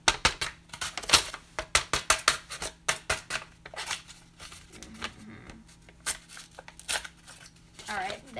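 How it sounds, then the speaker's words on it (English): Scissors repeatedly stabbing through a journal page while opening mail, a run of sharp close percussive taps and punctures in a quick irregular rhythm, followed by paper crinkling and brief talk. "I'll stab it with my scissors."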